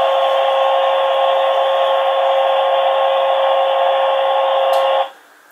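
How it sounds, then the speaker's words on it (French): Vacuum cleaner white noise played through a baby monitor camera's speaker, a steady even whooshing hum that runs unbroken for about five seconds, then cuts off abruptly. "Et le dernier, qui est l'aspirateur."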